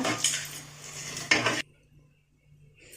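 A metal spoon scraping fried curry leaves from a pan onto a plate, two bursts of clattering metal-on-metal scraping close up, then near silence.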